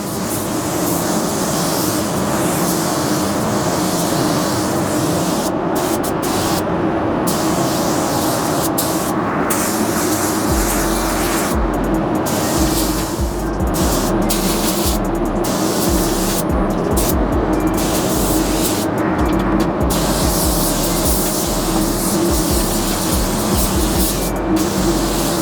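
Base coat is sprayed onto a Honda Civic, a continuous loud hiss of the spray gun with brief gaps where the trigger releases, over a low steady rumble of a compressor or fan.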